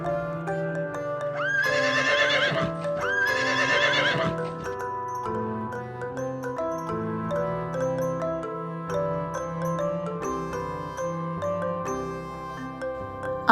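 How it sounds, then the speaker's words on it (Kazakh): A horse whinnies twice in quick succession, two bright, shrill neighs near the start, set over a continuous soft musical accompaniment. "лошадь"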